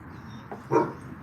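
A single dog gives one short bark, close and moderately loud, preceded by a faint softer yelp, with quiet background otherwise.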